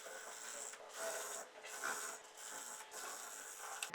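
Sewing machine stitches a Lycra-fused fabric waistband for a palazzo, running in whirring bursts with brief pauses between, close and moderately quiet.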